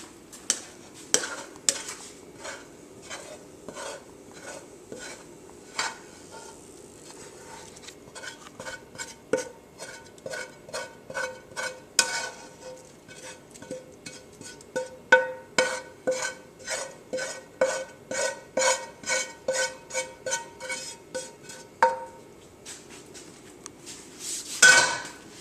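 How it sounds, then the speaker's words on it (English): Ground beef being stirred and cooked in a pot for healthy chili, with a long run of sharp metallic clinks and scrapes of a spoon against the pot, fairly close and steady, a faint sizzle underneath. "Now, you're ready to put the ground beef in."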